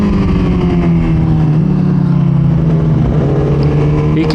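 Suzuki GSX-R 1000 sportbike accelerating hard with the rear tire spinning, a loud, close engine roar rising and holding through the run, with no talk.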